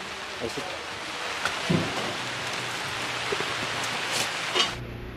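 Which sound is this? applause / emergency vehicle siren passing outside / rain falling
rain falling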